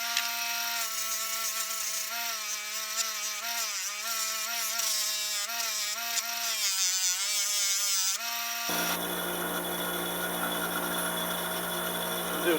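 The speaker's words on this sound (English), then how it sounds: "now we're over at our buffing wheel. We're gonna polish out vector" A buffing wheel spins with a steady, loud tonal whine while small steel parts from a Remington Nylon 66 .22 rifle are pressed against it, and the pitch dips and wavers under load before cutting off into quieter shop noise.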